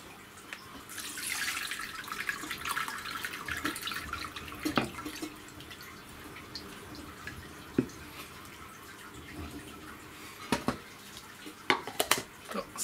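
Sculpin roe gets rinsed in water, with quiet splashing, running and dripping from a sink and a few sharper drips and clinks near the end.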